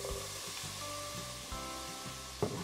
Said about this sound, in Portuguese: Vou adicionar o meu bacon.